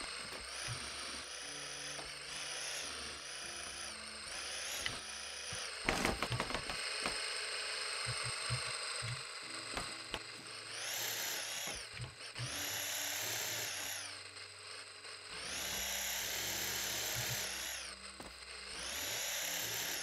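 Vehicle motors droning in Scrap Mechanic, a steady buzzing whine that rises and falls in pitch as the throttle changes, with a burst of clattering knocks partway through and no talk.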